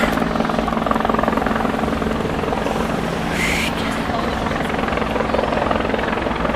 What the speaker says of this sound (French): Okay, I'm gonna get a shot of that provincial police chopper now.